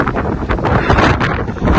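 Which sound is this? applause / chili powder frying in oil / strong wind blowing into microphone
strong wind blowing into microphone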